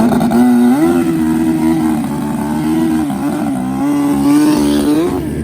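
A turbocharged Suzuki Hayabusa drag motorcycle engine, 700 horsepower, revs loudly and steadily, the pitch holding high then dipping and climbing again in repeated surges, close and alone.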